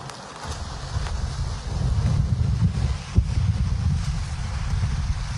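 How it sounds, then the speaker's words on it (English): Strong wind buffets the microphone on a Lake Erie pier during a winter windstorm, a constant low rumbling roar with gusty swells and a brief thump, waves faintly mixed in. "It's windy for sure."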